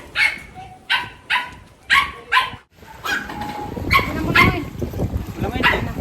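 A dog barks five times in a quick run, then keeps yipping and whining against a noisy background with voices.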